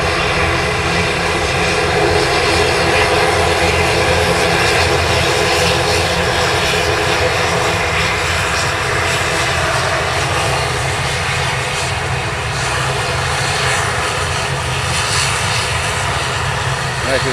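Ryanair airliner engines droning loudly and continuously at Manchester Airport, a steady roar filling the air without letting up.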